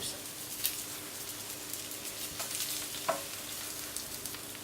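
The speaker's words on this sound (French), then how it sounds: "il y a juste à les faire dorer un petit peu sur la plancha" Potatoes brown on a plancha griddle with a faint, steady sizzle and soft crackle. A few small pops and scrapes stand out against the frying.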